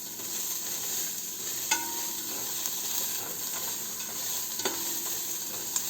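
Onions searing in a dry pan with no oil, a steady close sizzle running throughout, with a couple of brief scrapes as they are stirred.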